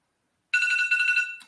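A phone timer alarm goes off with a bright electronic ringtone, a steady pulsing tone that starts abruptly, sounds loud and close, and then cuts off after about a second.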